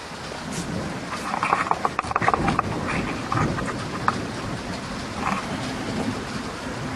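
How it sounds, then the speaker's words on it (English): Dense, steady wash of heavy rain with scattered sharper taps and patters on nearby surfaces, continuous throughout and with no voices. "it's pissing down with rain"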